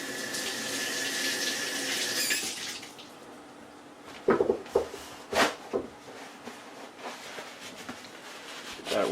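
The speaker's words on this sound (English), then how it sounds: "I think I didn't rinse this lemon off, so one second, let me rinse it off real quick." Tap water runs steadily into a kitchen sink while a lemon is rinsed, then the flow cuts off and is followed by several close knocks and clatters of handling.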